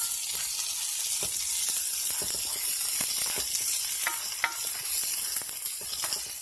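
Onions sizzle and fry in a pan on a stovetop at medium heat, with a steady crackling hiss throughout and occasional stirring scrapes and clicks, no voices.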